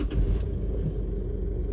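A 2016-era Isuzu MU-X with an idle problem tied to its throttle body sends out a loud, steady, deep engine rumble that stays close and continuous, with no voices over it.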